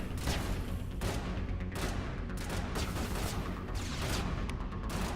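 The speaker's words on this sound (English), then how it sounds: "The grenade's gonna go." Grenade explosions and gunfire in the video game Mass Effect, a fairly quiet barrage of repeated sharp bursts every second or so over a steady rumbling battle bed, no voices.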